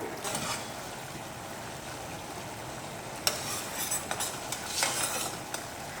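Quiet bubbling and crackling of sugar syrup for gulab jamun boiling in a pan, with a few faint clinks and scrapes over the steady boil.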